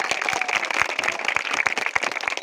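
Crowd applause at a cricket match, steady brisk clapping from many hands with crisp individual claps throughout.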